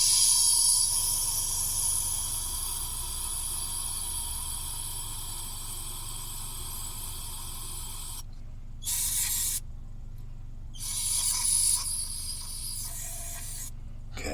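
Carburetor cleaner sprays close-up into a carburetor bowl on an engine that had sat for over 25 years. A steady, loud hiss runs for about eight seconds, then comes back in short bursts with pauses between them.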